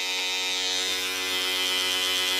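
An electric razor buzzes steadily and close up while cutting hair for a lost-bet head shave, a continuous bright motor whine with no speech over it.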